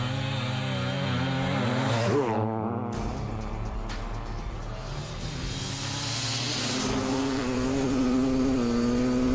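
A Maico 700 two-stroke and a Honda CR 500 motorcycle racing side by side, loud raspy engines revving hard with rising and falling pitch as they accelerate, close and continuous throughout.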